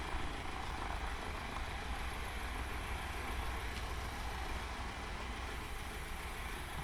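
A Cessna 182 piston engine in Microsoft Flight Simulator 2020 at Bembridge Airfield on the Isle of Wight drones steadily with a low, even rumble, heard alone at moderate level without any change in pitch.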